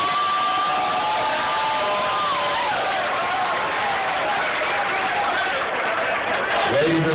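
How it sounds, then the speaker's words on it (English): A casino crowd at a Seminole Casino MMA bout applauding and cheering both fighters, a steady broad wash of clapping and crowd noise throughout, with a voice speaking over it. "Let's have a nice round of applause for both fighters."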